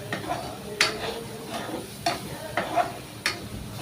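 Dried fish curry sizzles softly in a pan while a utensil stirs it, giving a few sharp scraping clicks over a gentle, steady frying hiss, close by.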